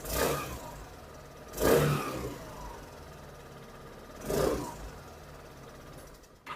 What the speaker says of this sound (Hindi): अब मैं इसे थोड़ा रैव करता हूँ।